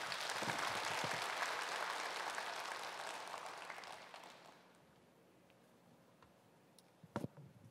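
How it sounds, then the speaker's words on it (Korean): Applause from a church congregation at a Wednesday morning worship service, welcoming a missionary speaker; broad clapping fills the first four seconds, then fades to near quiet, with a few faint taps near the end. "우리 환영하는 박수로 맞이하도록 하겠습니다."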